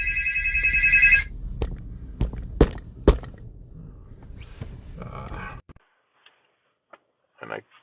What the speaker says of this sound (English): I think my phone just rang over the top video